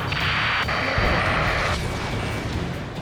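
Rocket and missile fire in the Ace Combat 7 video game, a dense roaring blast with rushing jet-engine noise, loud and continuous with sharp launch bursts mixed in.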